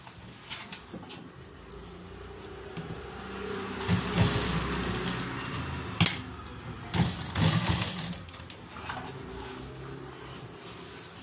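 A sewing machine stitches a collar with buckram, its motor whirring in uneven bursts with mechanical clatter and a sharp thunk midway, close up.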